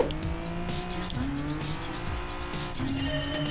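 A Hyundai Genesis Gr.4 race car in Gran Turismo Sport runs steadily on the Autopolis short course, its engine drone holding near and loud with rising gear pulls and brief tire squeals throughout.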